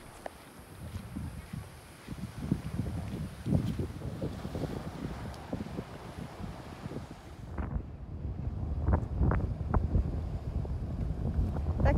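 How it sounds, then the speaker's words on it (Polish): Small fishing cutter motoring across open sea toward Hydra island off the Peloponnese in Greece, with steady wind buffeting the microphone over a low engine rumble and splashing water, gusts growing stronger toward the end. "Takim kutrem płyniemy sobie na wyspę Hydrę."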